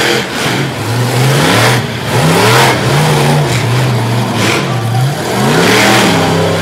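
Bigfoot monster truck engine revving hard at the start line of a semifinal race, a loud, sustained mid-pitched roar with rising and falling revs throughout, no talk over it.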